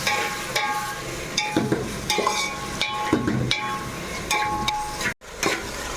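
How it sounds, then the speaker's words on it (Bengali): Onions fry in a pan for a Bengali-style chicken curry, a steady sizzle broken by repeated scraping strokes of a spatula stirring, with brief clinks against the pan. "ভেজে নিচ্ছে"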